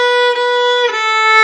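Bowed violin notes played close and clear: one sustained, bright pitch with slight bow-change dips, then a brief shift into a similar held tone, with no talking.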